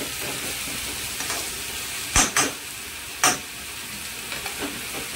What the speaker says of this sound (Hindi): इसको अच्छे से फ्राई कर लेते हैं पहले